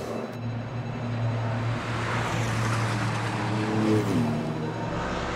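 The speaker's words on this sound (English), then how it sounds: "And we've got the number 1 car into the pits, David." A Porsche race car rolls into the pits during a GT endurance race, a steady engine drone with a shifting pitch near the end, heard without talk.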